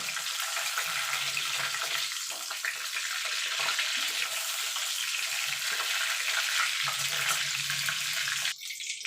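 Pointed gourd (potol) frying in oil, a dense continuous hiss and crackle of sizzling held close and steady throughout, with a faint low bubbling beneath and a brief clatter near the end.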